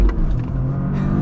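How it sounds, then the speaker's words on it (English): A 2023 Toyota GR Corolla with a 300-horsepower three-cylinder engine and manual gearbox accelerates hard, a loud close rumbling growl that holds steady for a moment from inside the car. "I'm going to interrupt myself for an acceleration here."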